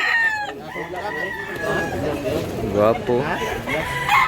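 Rooster at a market in Consolacion, Cebu, crowing loudly and close, then clucking, with a voice speaking over it.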